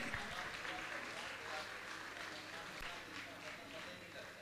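Audience applause at a Jain gathering honouring trustees in Lalitpur, a steady wash of clapping held at an even level for the whole stretch, moderately distant with a faint murmur mixed in.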